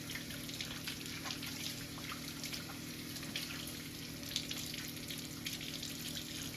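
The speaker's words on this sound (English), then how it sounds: "And then you rinse your hands with nice warm water." Warm tap water runs steadily as hands are rinsed at a kitchen sink while curry chicken is prepared, a faint, continuous splashing hiss with small drips and no voices.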